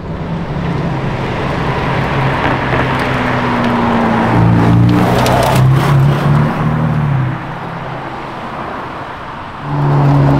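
A Ferrari SF90 VS supercar drives past, its engine note rising and growling loudly as it nears, then fading before another surge at the end, with traffic noise underneath.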